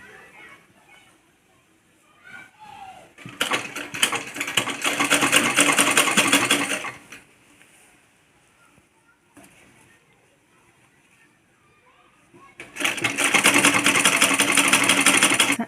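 A sewing machine stitches a kurti in two loud, close bursts of fast whirring, each lasting a few seconds, with a voice talking in the quieter stretches between them.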